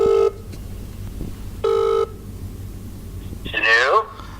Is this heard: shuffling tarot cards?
no